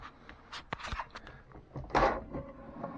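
Full-extension kitchen drawers in a 2016 Winnebago Minnie 1801FB travel trailer being handled at close range: a few sharp clicks and knocks, then a short sliding rush and thump, with faint rattles trailing off and no talking.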